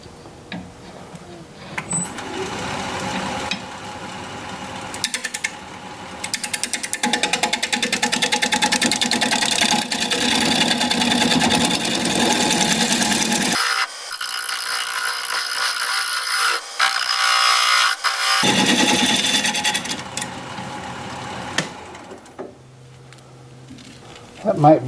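A wood lathe turning a tenon on the bottom of a wooden bowl makes a loud, steady mechanical whir with brief dips and restarts, while a person talks over it.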